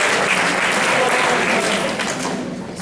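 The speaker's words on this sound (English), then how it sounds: "so give them a round of applause" Loud applause for the assistant coaches at a high school baseball spring athletic awards ceremony, a dense crowd clapping steadily before it gradually tapers off.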